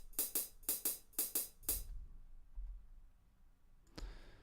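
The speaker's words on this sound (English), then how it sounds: "I will just show it with a hi-hat." Crisp hi-hat strokes in a swung shuffle pattern, several quick uneven pairs, then a pause and one more hit near the end.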